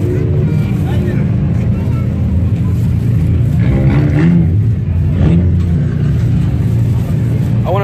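A modified car with a widened, loud aftermarket muffler rumbles on a Tokyo street, its deep exhaust drone steady and close throughout, with revving swells and faint voices mixed in.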